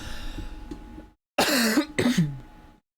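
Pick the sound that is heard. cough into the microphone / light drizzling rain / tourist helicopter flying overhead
cough into the microphone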